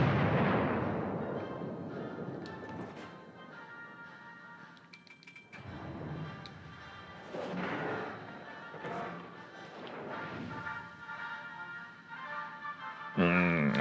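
Warship guns boom and armor-piercing shells strike in World of Warships: Legends, a series of heavy thuds and explosions with metallic clinks, mixed with game music and occasional speech.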